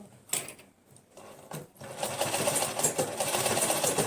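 A sewing machine stitches cloth: a few short bursts at first, then a steady, continuous mechanical whir running close and moderately loud to the end.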